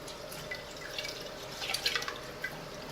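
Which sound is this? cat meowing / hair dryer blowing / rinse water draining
rinse water draining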